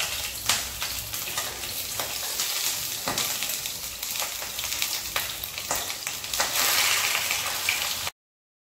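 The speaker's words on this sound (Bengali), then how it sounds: "তেল গরম হয়ে এসছে। এরপরে আমি বেঁধে রাখা পাতুরিগুলো একে একে দিয়ে দেবো।" Mourola fish paturi parcels wrapped and tied in leaves fry in hot oil, giving a steady close sizzle with crackling spits and pops that swell louder near the end.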